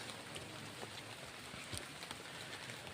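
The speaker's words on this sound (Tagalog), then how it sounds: "Yan tol, kasalukuyang umuulan na po." Rain falls steadily as a soft, continuous patter with occasional louder drips, fairly quiet and with no talking.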